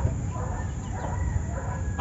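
Red junglefowl kept in captivity cluck softly amid a constant low background rumble, brief calls spread across a short stretch with no talking.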